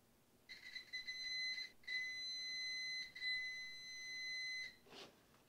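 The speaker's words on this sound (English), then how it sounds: "a beep means that we've got continuity" A continuity tester gives three steady electronic beeps, each lasting about a second or longer, with short gaps between them, clear and close in a quiet room.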